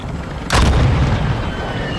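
A burst of gunfire erupts in a battle royale shooter match, a sharp loud crack followed by a heavy rumbling tail that lingers, with no talking over it.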